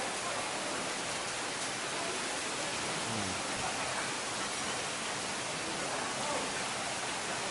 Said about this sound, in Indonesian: Pas banget nih hujan-hujan.